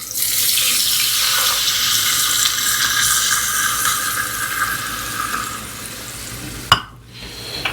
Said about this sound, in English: next we add 1 cup of water